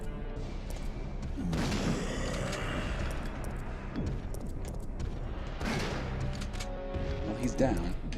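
Gunfire from the Resident Evil 3 video game, with booming shots and crashes over continuous game music and noise, including a louder burst near the end.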